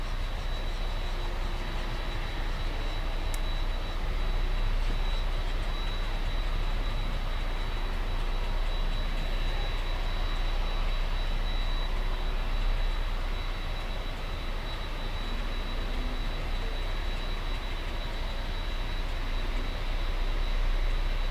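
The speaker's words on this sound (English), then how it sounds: "I see A380. I see it. I see it. Wow, landing in the south" An Airbus A380 landing at Miami airport makes a steady, distant jet roar that stays even and unbroken for the whole stretch, with no voices over it.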